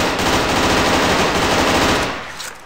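Gunfire rattles from a video game in a rapid, continuous automatic burst, loud and close, that fades slightly at the end.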